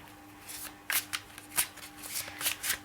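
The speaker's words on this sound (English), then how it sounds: "Let's pull some tarot cards for you." A deck of tarot cards being shuffled up close, with quiet riffling punctuated by several crisp, bright bursts of card flicks in an uneven rhythm, no speech.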